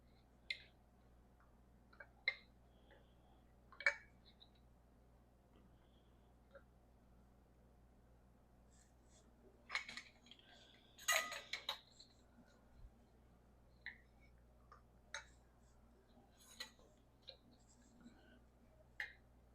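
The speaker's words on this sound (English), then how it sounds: "And then I take my jar lids and put them on." Metal canning lids set onto jars of dilly beans, sharp isolated clicks and light taps spaced every couple of seconds, close and quiet against a faint low hum, with a small cluster of rustling clinks midway.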